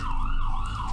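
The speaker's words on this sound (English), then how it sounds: "let the ambulance drive on by" An ambulance siren wails close by, a loud continuous rising-and-falling tone sweeping past over a low rumble of traffic, with no voices.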